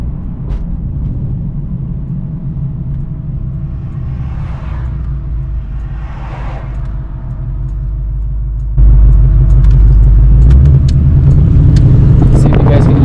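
A Coyote V8 car engine rumbles at idle with a low, throaty exhaust note, then swells louder partway through as the motor revs up, with voices talking over it.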